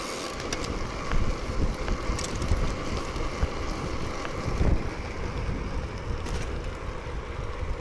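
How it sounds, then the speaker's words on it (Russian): Bicycle tyres roll steadily over asphalt, a continuous broadband rumble and hiss mixed with wind buffeting on the microphone, with no talk. "Так хорошо слышно, как покрышки гудят об асфальт."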